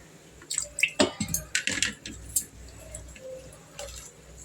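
Water is poured into a pot of fish curry, giving a close run of quick splashes and drips that fade into a few scattered, softer drops.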